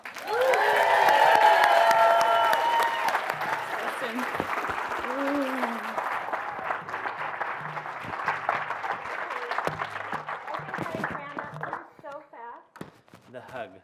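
Applause and cheering from an event audience greet Double Diamond and U.S. founder Natalie Goddard at a business launch, loud and dense at first, then easing into a long steady patter with voices calling out, thinning toward the end.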